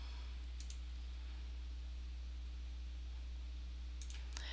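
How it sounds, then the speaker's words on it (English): Mouse clicks on a Save button at a computer, a couple of brief, faint clicks over steady low hum, one near the start and a small cluster near the end. "and I click Save"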